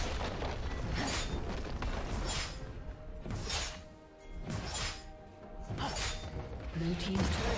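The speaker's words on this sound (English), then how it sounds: "Red team's turret has been destroyed." Turret destruction in League of Legends, a run of loud booming, crashing explosions and debris bursts that swell and fade in waves over a steady, dense game soundscape.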